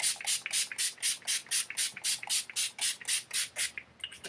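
A bottle of Makeup Revolution Pro Base Aqua Priming Base mist gives about fourteen quick, evenly spaced sprays. Each one is a short, crisp hiss, close up and rhythmic, with no voices.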